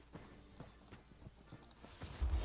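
Horse hoofbeats in a video game sound as soft, faint clip-clops in an uneven walking rhythm, followed by a brief low thump at the end.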